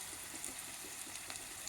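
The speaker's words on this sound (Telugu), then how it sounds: "అల్లం వెల్లుల్లి పేస్ట్ వేస్తున్నానండి. ఇది ఒక 2 నిమిషాలు వేగనివ్వాలన్నమాట." Ginger garlic paste sizzles quietly in hot oil in a pan, a faint, even crackle with a few soft pops and no talk.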